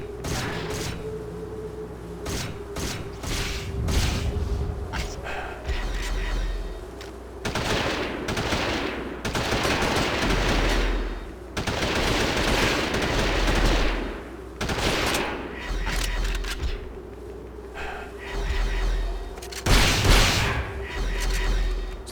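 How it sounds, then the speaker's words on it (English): Rapid machine gun bursts and heavy shotgun blasts from Hunter: The Reckoning, loud and close, firing in repeated volleys with short pauses between, over a steady low game drone, no speech. "Look at all the bullets I shot towards that guy with the machine gun and the shotgun"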